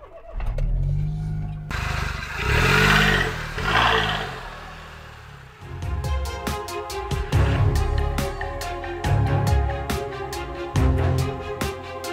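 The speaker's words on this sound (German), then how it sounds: "Ich starte mal die Karre und dann geht's auch direkt los." A car engine starts up and runs: a loud, rising mechanical drone that swells and falls, then gives way to rhythmic clicking and a lower running rumble nearby.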